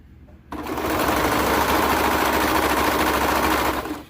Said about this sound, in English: you just sew the entire crotch curve here